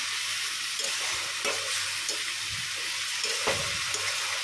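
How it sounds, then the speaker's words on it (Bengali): Spice paste for a pointed gourd and potato curry fries with a steady, close sizzle while a spoon scrapes and stirs through it in occasional soft strokes, no voices. "পটল আলুর মশলাটা কষাচ্ছি।"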